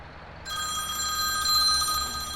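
A phone rings inside the video game Farming Simulator 19. After a brief quiet moment, a bright electronic ring with steady tones starts and carries on at moderate volume over a faint background hum.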